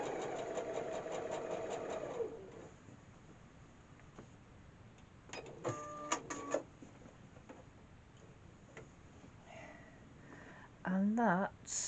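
A sewing machine stitches a quilt block for a Purple Star design, a steady mechanical run in the first two seconds, then quieter spells with brief handling noises and a short whirring burst near the end.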